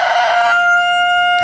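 A newly arrived rooster gives a single loud, close crow that rises and then trails off in a held, ringing tail, with nothing else around it.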